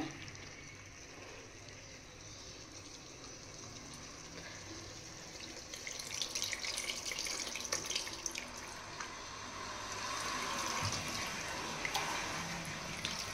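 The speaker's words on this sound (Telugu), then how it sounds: "ఇప్పుడు బాగా కలుపుకొని పులుసుకు సరిపడా వాటర్ వేసుకోవాలి" Water is poured into a pot of tamarind gravy for a bottle gourd stew, making a steady splashing, running-water hiss that holds for the whole stretch and swells somewhat louder toward the end.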